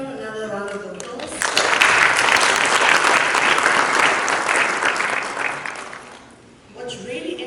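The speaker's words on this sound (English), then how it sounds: "Please give Dr. McKenna another round of applause." Loud audience applause breaks out at an academic space symposium after a presentation, swelling quickly, holding steady for several seconds, then fading out, with a speaker's voice heard briefly before and after.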